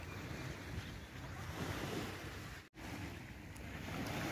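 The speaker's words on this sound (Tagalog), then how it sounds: "nasa gilid tayo ng dagat" Sea waves roll onto the shore beside a mountain, making a broad, continuous surf roar mixed with gusty wind buffeting the microphone, interrupted by one brief dropout midway.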